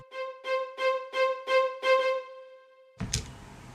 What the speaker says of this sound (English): this small bit, is panned to the right.